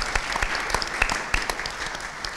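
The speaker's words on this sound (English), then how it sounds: "let's start with a big warm welcome and applause for everybody for being here" A small audience at an arts panel discussion claps briefly, with scattered individual hand claps rising and falling over a couple of seconds at moderate volume.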